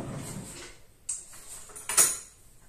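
Small plastic teaspoons clink and scrape against dishes in a kitchen, a few faint, sparse taps and one brighter clatter near the end, heard alone with quiet pauses between.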